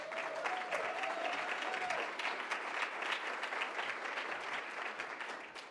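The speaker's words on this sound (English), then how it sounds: "That was a cheap dig for applause, and I got it twice" Sustained audience applause fills a Greater Manchester Chamber business event, a dense steady wash of clapping from a large crowd lasting several seconds, with a brief faint tone near the start and no speech.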